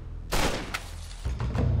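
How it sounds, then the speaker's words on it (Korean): A dramatized gunshot set in a barley field in rural France in 1890: a sharp booming crack followed by a decaying echo, then a second, rougher burst about a second later, with no talking. "1890년 7월 27일 프랑스의 한 농촌 보리밭에서 들린 총성."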